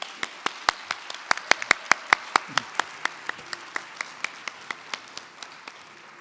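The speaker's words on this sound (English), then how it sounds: "Can we also get a round of applause for the International Scientific Program Committee chairs?" At a health technology conference closing ceremony, the audience gives sparse applause: a few distinct claps ring out in a fairly steady rhythm, clear and close over a quiet hall, slowly thinning toward the end.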